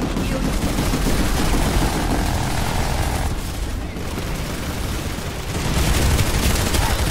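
Dense video game gunfire from a PS2 shooter, with continuous loud, overlapping bursts of shots and explosions filling the whole stretch without a break.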